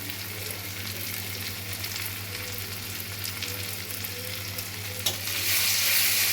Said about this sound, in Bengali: রসুনটা একটু তেলে ভেজে নিলে